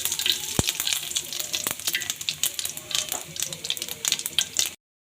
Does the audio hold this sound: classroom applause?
no